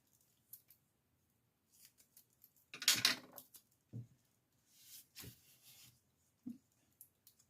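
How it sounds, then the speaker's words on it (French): Scissors snip and crunch through sticky double-sided tape, a sharp cutting burst followed by a few softer snips and rustles in a quiet room. "ma paire de ciseaux qui coupe le double face."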